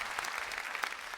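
A stand-up comedy audience claps briefly at a live show, a short burst of dense, steady applause from a large crowd.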